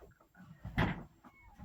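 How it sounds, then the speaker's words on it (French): An indoor door swings shut with a single muffled thud close by, followed by faint shuffling. "je vais fermer la porte."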